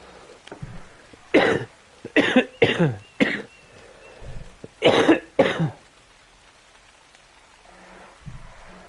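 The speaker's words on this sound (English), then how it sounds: "A fucking coughing fit." A run of harsh coughs bursts out in several close, uneven clusters during a cooperative Ark: Survival Evolved session, loud and near, with quieter gaps and a soft rain-like hiss underneath.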